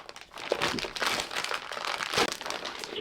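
Crinkling plastic from vacuum-sealed packaging being opened, with a steady run of close, loud crackles and rustles and no talking.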